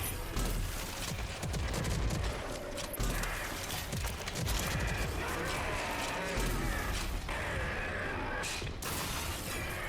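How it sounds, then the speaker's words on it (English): Rocket launcher fire and explosions crash in Rage 2 combat against a boss, a dense, relentless barrage of blasts, mechanical clanks and bursts of gunfire with little pause. "He's being stun locked by a rocket launcher."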